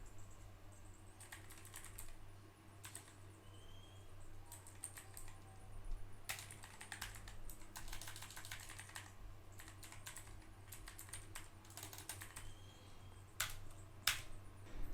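Typing on a computer keyboard while configuring a network router: quiet, irregular clusters of key clicks with short pauses between bursts, close by and faint, with no talking.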